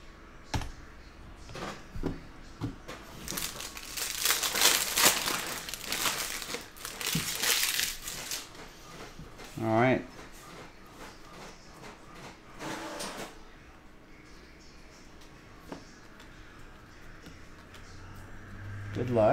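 Foil wrapper of a Panini Mosaic soccer card pack crinkles and tears open in bursts of crackling and rustling, close up, with scattered handling clicks and no talk.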